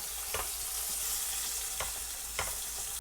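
Beef yukjeon frying in oil for a rice bowl, a steady bright sizzle with a few soft pops and faint stirring clicks, close and continuous with no talking.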